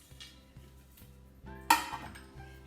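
Metal cake pans clink and knock softly while being oiled for an apple spice cake, with light tapping followed by one sharper metallic clank near the end.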